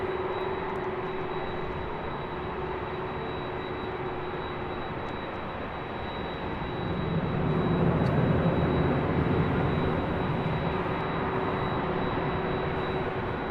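A jet airliner at LAX spools up for takeoff on runway 24 left, a steady distant roar that swells noticeably in the latter half with a deepening rumble, no voices over it.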